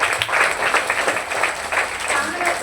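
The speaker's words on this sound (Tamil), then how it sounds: "இந்த மகிழ்ச்சியை நான் கைத்தட்டல் மூலம் தெரிவிச்சுக்கிறேன்." A school audience claps hands together in a dense, steady burst, the applause close and fairly loud, with a voice faintly mixed into the clapping.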